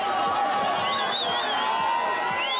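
A large crowd in the DRC welcomes Denis Mukwege home, a dense, steady roar of cheering with whoops and shrill whistle-like cries rising above it, close and continuous throughout.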